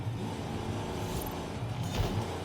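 A car engine in Forza Horizon 5 drones steadily, loud and close, with a slight change in pitch as it downshifts into second gear.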